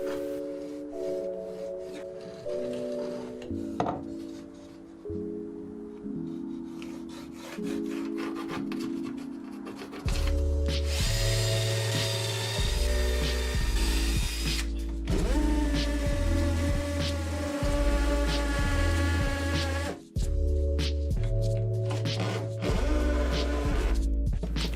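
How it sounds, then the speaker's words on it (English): A power drill pre-drilling and then driving screws into wooden boards covering open stair risers, with steady whirring motor bursts and grinding bites into the wood, close and continuous. "then I've got exactly where I need to do my pre-drilling and then screwing"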